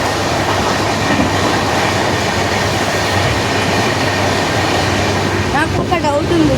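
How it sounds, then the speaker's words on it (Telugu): Another train passes on the railway near Vijayawada, heard from aboard a moving train as a loud, continuous rumble of wheels and carriages, with faint squeals near the end. "ఇంకొక ట్రైన్ అయితే వెళ్తుంది."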